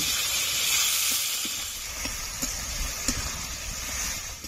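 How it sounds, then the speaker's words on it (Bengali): Onions fry in a pan for a village-style country chicken dish, a steady broad hiss of oil with a few small pops and crackles, no talk. "এবার পেঁয়াজটা ভালো করে ভেজে নেব।"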